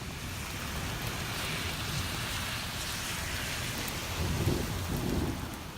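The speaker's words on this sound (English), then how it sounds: "And the rain is coming down, and there's no barrier in the front." Heavy rain pours onto corn plants in a garden, a dense continuous hiss with low rumbling underneath that swells slightly toward the end, and no voices.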